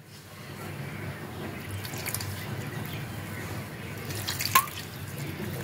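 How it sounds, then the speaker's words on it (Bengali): Water trickles and drips steadily into a bowl of batter for Bengali eggplant fritters (begun chop), a soft continuous pour with a brief splash near the end. "এখন একটু আমি জল দেব।"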